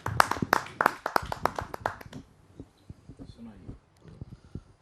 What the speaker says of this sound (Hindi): आइए आपके शब्दों को हम सुनते हैं दर्शकों की जोरदार तालियों के माध्यम से।